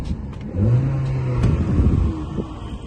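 A 2011 Skoda Fabia's engine revs up from a steady idle to a sustained, even rumble held close by, with no talking.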